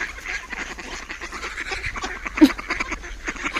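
Water ducks quack repeatedly in a noisy outdoor scene, with one louder honk standing out midway over a steady wash of background noise.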